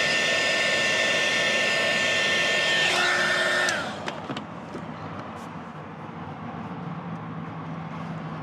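A heat gun warming a dash kit piece in a 2021+ Ford Bronco gives a loud, steady whirring blast that cuts off about halfway through, leaving a quieter hum and a few light clicks.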